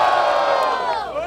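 A crowd at a Batalha da Aldeia freestyle rap battle in Barueri, São Paulo, roars and cheers loudly for a rapper's rhymes. The noise is dense and sustained, with shouts and whoops rising above it.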